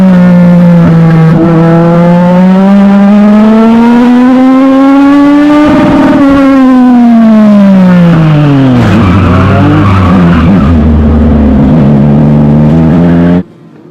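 Race cars at a Thursday Thunder Young Lions round roar past on track, loud engine notes rising and falling with a Doppler sweep around the middle, tires scrubbing as the pack weaves close together, continuous and near throughout.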